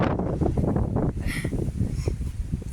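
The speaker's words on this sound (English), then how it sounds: "It's still pretty windy right now." Gusty storm wind buffets the microphone at a tarp tent in low rumbling bursts, steady and close throughout, with no voices.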